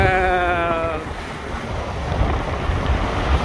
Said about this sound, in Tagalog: lakas ng alon dito sa fishing spot. Lumakas ang alon.